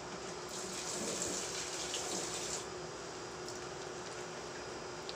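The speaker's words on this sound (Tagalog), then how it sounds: "Aking idadagdag na tubig na yan." Water pours into a cooking pot of chicken adobo with potatoes, a steady splashing gush that brightens briefly midway and then settles into a softer trickle, close and alone without talk.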